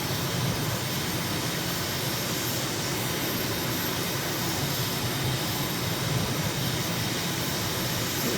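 A jet engine in Microsoft Flight Simulator throttling up, a loud, steady broadband roar and rush that holds constant throughout with no talk.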